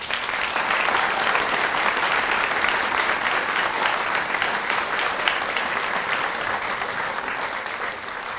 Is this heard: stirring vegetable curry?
no